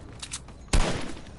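Gunfire in a video game: a sharp, loud shot bursts out abruptly after near quiet, followed by a short decaying rumble, close and alone with no talk.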